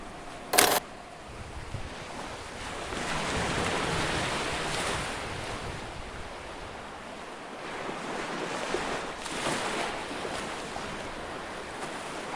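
Ocean waves surge and wash continuously along a shore, a steady broad roar with gentle swells in intensity, plus a brief sharp knock near the start; no speech.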